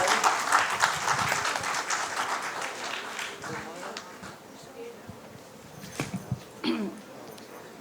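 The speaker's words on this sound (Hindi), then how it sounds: "तो जोरदार तालियों के साथ उनका स्वागत करेंगे।" An audience at a Hindi poetry gathering in Mysore greets a guest with loud applause that swells at first, then thins and fades over a few seconds, giving way to scattered sounds and a voice.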